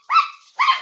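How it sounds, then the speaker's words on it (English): Two sharp barks from a dog in the background of an online call for a fantasy sports league show, each short and fairly loud with a brief pause between them. "That's a cute dog you have there."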